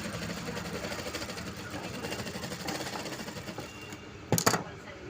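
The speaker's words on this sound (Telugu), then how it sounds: "ఒకసారి వేస్ట్ క్లాత్ తీసుకొని కుట్టేసుకున్నాము" A tailoring sewing machine stitches a scrap of black waste cloth after a new needle is fitted, a close, rapid rhythmic whirring run that slows, then a few sharp clunks at the end.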